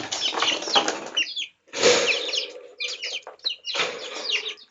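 Baby chicks scuffle and flap in short bursts close by, mixed with high thin chirps and peeps, in three or four busy clusters separated by brief pauses.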